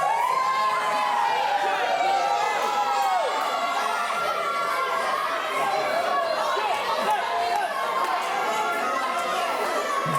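A wrestling crowd in Lincoln makes a steady, dense roar of chatter and shouting. It runs across the whole stretch at a constant loud level, and one voice sweeps high above the others near the start.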